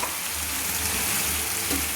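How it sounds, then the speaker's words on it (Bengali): Coriander paste water hits a frying katla fish curry with a loud, continuous sizzle and close bubbling hiss that stays constant with no talking. "আমি যে মিক্সি জারে ধনেপাতা পেস্ট করেছিলাম সেই জলটা আমি অ্যাড করে দিলাম"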